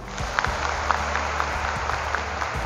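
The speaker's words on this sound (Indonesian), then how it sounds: "Tepuk tangan untuk kita semuanya." Audience of students at a large school gathering applauding together, a steady dense wash of clapping with scattered louder claps, no voices over it.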